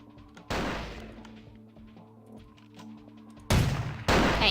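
Weapon gunfire in the video game Vampire the Masquerade: Bloodlines: a loud single shot, then quieter ambient sounds, then two more sharp blasts in close succession near the end.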